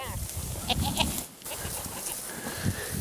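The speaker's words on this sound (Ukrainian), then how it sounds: "Оця коза Заринської породи" Several Saanen goats bleat nearby, overlapping calls rising over a busy background of farmyard noise, with a brief dip in the middle.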